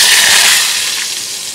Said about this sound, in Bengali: শেষমেশ এই যে বেগুনগুলো ভাজছি